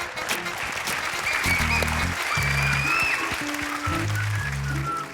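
Steady audience applause fills a Malayalam comedy stage show, loud and continuous for several seconds with a few brief voices over it.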